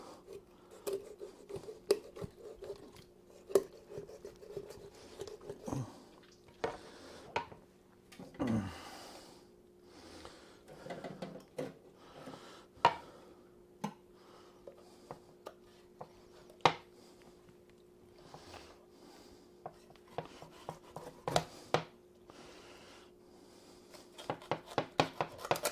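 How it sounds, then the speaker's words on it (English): A sharp kitchen knife cuts along a turkey's backbone, giving irregular crunching snaps and cracks through the bone amid quiet scraping and soft breathing, close and fairly faint. "And you just cut right alongside of the backbone."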